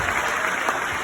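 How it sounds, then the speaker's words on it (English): Steady applause from a crowd at a university pharmacy alumni reunion fills the whole moment, a dense even patter of clapping with no pauses. "A round of applause for all my lecturers"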